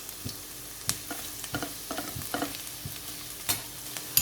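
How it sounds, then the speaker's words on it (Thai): A utensil scrapes and taps around a wok in quick, irregular strokes, stir-frying minced garlic over a faint sizzle. Quiet and close, with no voices. "ผัดกระเทียมสับเขาให้หอมก่อนเลยครับ"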